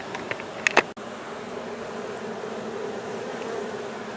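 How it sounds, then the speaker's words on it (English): Honey bees droning in a steady, close buzz after being shaken from old brood comb into a hive box, with a couple of brief knocks near the start. "So all I did is I basically just kind of held it inside the box and shook the bees in there."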